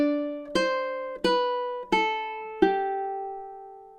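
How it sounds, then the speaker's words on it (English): A ukulele plays measure 6 of the French folk song Au clair de la lune. Four clear plucked notes, about two-thirds of a second apart, ring with bright, sustained tones, and the last note is left to decay. There are no voices. "So that looks something like this. Measure 6"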